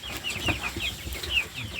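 A flock of 45-day-old farm chickens cluck and chirp as they eat, several close, overlapping calls coming in short, busy bursts with no talking.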